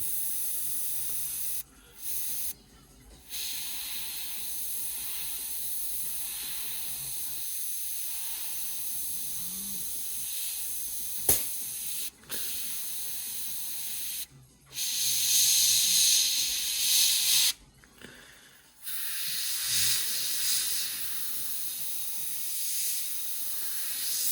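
An airbrush sprays paint for weathering onto an Airfix 1/48 Buccaneer model, a loud steady hiss running in long bursts broken by several brief pauses as the trigger is released and pressed again.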